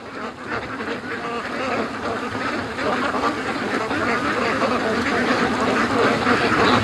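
Free-range ducks on a lake quack continuously in a dense, overlapping chorus, loud and close, with steady outdoor ambience filling the background throughout.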